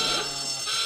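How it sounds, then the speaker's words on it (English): A quiz show buzzer blares in one loud continuous electronic tone, close and alone. "Fingers on buzzers, please."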